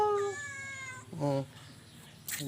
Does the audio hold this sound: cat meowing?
yes